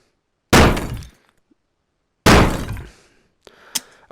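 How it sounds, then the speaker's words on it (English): Target shooting in the VR game Rec Room: two loud, sharp gunshot-like bursts with decaying tails, spaced about two seconds apart, followed by a softer clatter and a brief high ping, with no talking. "now I'm going to begin the shooting"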